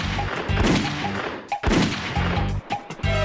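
Gunshots ring out during shooting practice in an action scene from a Telugu film dubbed in Hindi: loud, sharp broadband cracks in quick succession, with several separate bursts across the few seconds and no voices.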